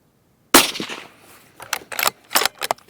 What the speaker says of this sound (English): We're going to shoot a 3-shot group at 100 yards and see how she performs.